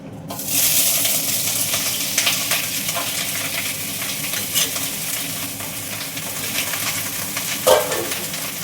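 Cut capsicum pieces dropped into hot oil for a capsicum chutney, setting off a sudden bright sizzle that continues steadily, with occasional stirring clinks and scrapes and no talking.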